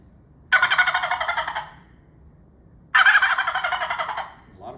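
Turkey gobbles imitated on a tube call: two loud, rattling bursts, each a rapid pulsing run that fades at the end, separated by a short silence.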